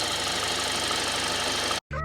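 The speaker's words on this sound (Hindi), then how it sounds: "पहले इंजन थोड़ा स्मूथ लगता था, अब थोड़ा ज़्यादा आवाज़ कर रहा है।" A car engine idles noisily with an idler bearing fault, a loud, dense, steady mechanical whir and rattle heard close up, then a sudden brief cut and change in tone near the end.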